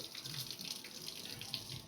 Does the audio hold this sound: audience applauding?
no